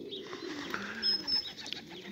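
Racing pigeons, mostly yearlings, coo softly in their loft, a low, murmuring burble of several birds close by, with a faint higher chirp briefly cutting through.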